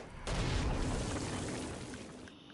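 Stone Blast power explosion in the video game Saints Row: Gat out of Hell, a sudden loud rumbling boom that hits sharply and then decays slowly over about two seconds.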